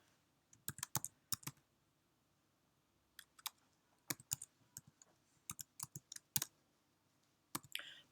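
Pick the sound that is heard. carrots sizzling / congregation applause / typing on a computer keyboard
typing on a computer keyboard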